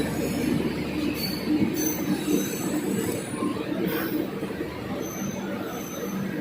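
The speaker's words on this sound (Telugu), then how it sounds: "ఇప్పుడే ప్లాట్ఫామ్ నెంబర్ 4 మీదకి ఏదో ట్రైన్ అయితే వచ్చింది" A Humsafar Express hauled by a WAP-7 electric locomotive rolls into a station platform, steady rumbling rail noise with high wheel squeal and brief screeches running throughout, close and continuous.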